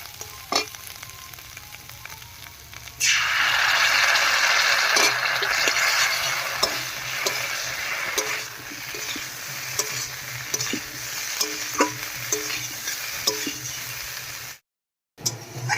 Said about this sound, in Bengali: শুকনো লঙ্কা বাটাটা দিয়ে সবকিছু খুব ভালো করে কষিয়ে নিয়েছি